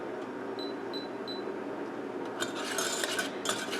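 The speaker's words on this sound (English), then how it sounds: "as I whisk it I can get a nice paste" Milk whisked into a paste in a pan for a chocolate cake: soft scraping and stirring close by, a few faint beeps early on, then brisker metallic whisk strokes toward the end, with no talking.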